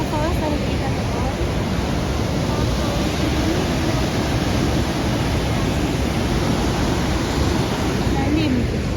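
Sunwapta Falls, a powerful waterfall heard from a bridge, a steady loud broadband roar of rushing water that holds without a break, with some wind buffeting.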